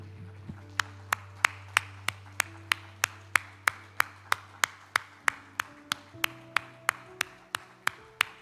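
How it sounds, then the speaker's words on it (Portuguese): A church congregation claps in unison at a Pentecostal faith-and-miracles service: sharp, evenly spaced claps about three per second, over sustained keyboard chords. "E aplauda o Senhor, porque Ele é digno."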